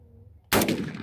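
A single loud, sharp gunshot cracks at a shooting range after near-silence, then a brief echoing tail.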